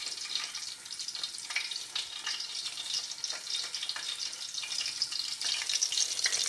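Shrimp crackers frying in hot oil, a steady bright sizzle with crackling bubbles that swells slightly toward the end, close by and with no talking.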